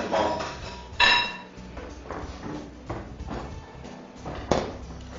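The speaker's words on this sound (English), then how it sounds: "So simply put the freezer bowl" A freezer bowl set into a Cuisinart soft serve ice cream machine, a few close hard knocks and clunks of the bowl seating into the plastic housing, with light handling rustle between them.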